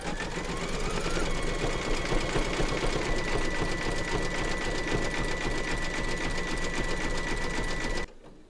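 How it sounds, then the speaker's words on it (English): An embroidery machine satin-stitches Santa's suit in red thread, a loud, steady rapid needle chatter with a whirring motor running continuously for about eight seconds before stopping abruptly. "Load your matching bobbin and thread colour for the satin stitching of his suit into your machine. And then stitch round number 10"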